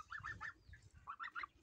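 Geese honk in two quick clusters of short nasal calls, fairly faint and a little distant.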